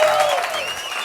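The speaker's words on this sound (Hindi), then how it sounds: "जोरदार तालियों से स्वागत कीजिए हमारे गेस्ट का" A studio audience on a talk show applauds to welcome a guest, a burst of clapping and crowd noise that stays fairly loud.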